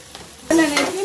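Okra added to hot oil with turmeric in a pan for a Telugu okra pulusu, bursting into a loud sizzle halfway through, with stirring scrapes over the frying.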